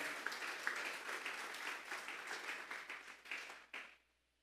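A church congregation applauds during a Sunday service, a steady wash of many hands clapping at moderate distance, fading out abruptly near the end.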